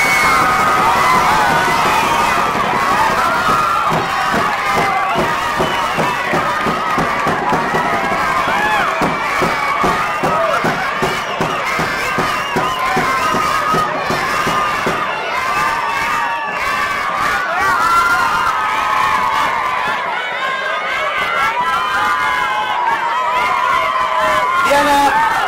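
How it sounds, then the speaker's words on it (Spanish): Large crowd cheering and shouting loudly and steadily at a Matlachin dance beauty pageant final as a princess is crowned, voices overlapping in a continuous roar with some talk mixed in. "Fuerte el aplauso para Diana."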